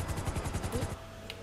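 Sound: gunfire in video game GTA 5

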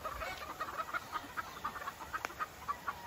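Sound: chickens clucking on a farm

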